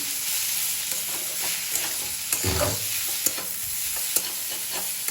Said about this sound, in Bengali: জল ঢেলে দিয়ে দেবো ঠিক আছে এরপরে রান্না করব আমি